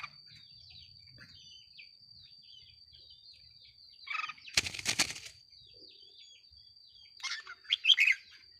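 Red-whiskered bulbuls chirp nearby in light, scattered calls, with a loud burst of wing flapping midway and more bright, busy chirping near the end.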